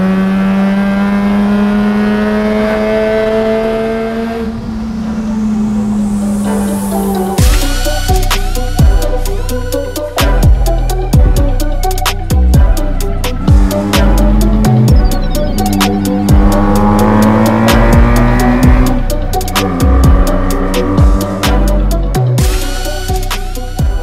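Datsun 620 pickup with a rotary engine revving to about 11,000 RPM: an idle that climbs, then a series of loud, sharp revs rising and dropping in quick succession, close and raw.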